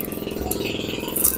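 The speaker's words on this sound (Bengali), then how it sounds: "পিছনে নৌকা যাচ্ছে, ঘর ঘর শব্দ শুনলে পরে আমার দোষ নেই" A boat engine on the Meghna river makes a steady, pulsing low rumble at close range, with a faint rattle and a slight swell in loudness near the end.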